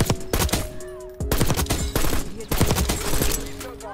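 SWAT 556 burst rifle fired in Black Ops 6, rapid loud clusters of gunshots in repeated short bursts, with game sound effects in the background.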